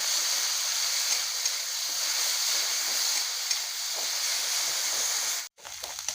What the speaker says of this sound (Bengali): পেঁয়াজ বাটা দিচ্ছি পেঁয়াজটা এখন ভালোভাবে ভেজে নেব